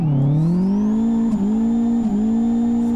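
A turbocharged Chevy DL drifts around a track in the racing game Live For Speed, its loud engine holding a high, steady drone with a rising pitch and two brief dips as the revs momentarily drop.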